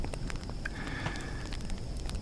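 Small campfire burning inside a desert ger at night, giving soft, sparse crackles and pops over a low steady rumble, faint and close.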